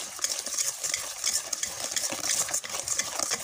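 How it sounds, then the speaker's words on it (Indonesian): Cake batter for a sponge cake whisked steadily in a bowl, a fast continuous scraping and tapping with an even rhythm, close and fairly quiet, with no talk. "Kita akan kocok dulu ya sampai betul-betul tercampur rata pemirsa ya."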